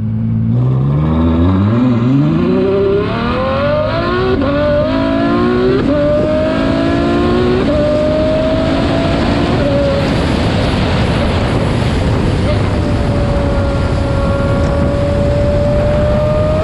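A Ferrari F12 Berlinetta engine revs hard, pitch climbing through several gear changes, then settles into a sustained loud drone with road noise.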